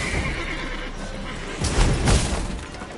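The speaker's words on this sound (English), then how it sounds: "Gotta calm all the horses before they wake the guards" A horse whinnies near the start over a steady background hum in The Witcher 3, followed by a couple of louder snorting bursts and thuds from the game horses.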